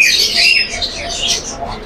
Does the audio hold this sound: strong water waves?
no